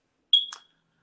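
A smoke alarm gives one short high chirp, bright and distinct, followed by a brief buzzy tail and then silence.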